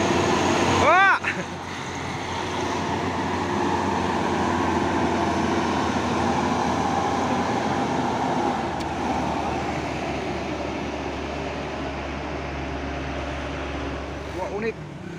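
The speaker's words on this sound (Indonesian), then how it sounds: "Dua unit truk tangki CPO." Two CPO tanker trucks rumble past on a steep hill road, a broad, swelling engine and road roar that fades slowly, with brief horn-like chirps at the start and near the end.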